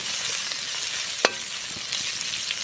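Ginger and garlic frying in a pan of hot oil for a goat liver dish, a steady soft sizzle throughout with one sharp louder crackle near the middle and a few faint pops, no voices.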